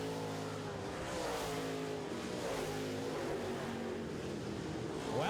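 Late model race cars roar around a short track during a heat race, with engines droning and shifting pitch as they pass. The sound is steady and continuous, mid-distance, and rises slightly at the end.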